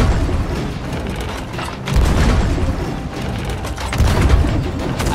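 Ship cannons fire in Sea of Thieves: two heavy, low booms land a couple of seconds apart, each rolling out over a constant roar of wind and sea.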